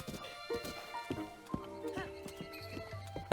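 Horse hooves from a Zelda video game as a rider heads toward Kakariko village: a steady clip-clop of hoofbeats with a horse neighing, mixed with game music, fairly quiet throughout.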